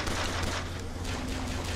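Dense gunfire from a battle in the video game BioShock Infinite, a steady roaring barrage of overlapping shots filling the whole clip at a loud level.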